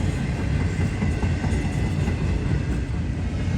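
Intermodal freight train rolling through Folkston, a steady close rumble of wheels and rail clatter, continuous and fairly loud with no voices.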